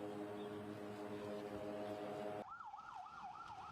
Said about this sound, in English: Ambulances and other emergency vehicles were dispatched to take victims to hospitals.